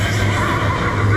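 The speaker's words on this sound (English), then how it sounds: "what's a horse say? Nay!" A horse whinnies in a steady, loud burst against a continuous low hum, with a farmyard stable and hay setting, and no talk over it.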